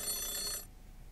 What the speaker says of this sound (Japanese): 電話のベルの音が止んだ。